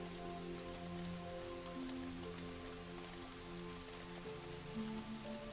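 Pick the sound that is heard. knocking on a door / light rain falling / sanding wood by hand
light rain falling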